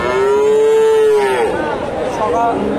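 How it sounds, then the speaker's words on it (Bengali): A Friesian bull at the weekly Dhap cattle market in Bogura, Bangladesh, lets out a loud, close moo lasting over a second, followed by fainter lowing amid the market's background noise. "আর এখানে উন্নত জাতের ফ্রিজিয়ান সার গরুগুলো উঠে থাকে"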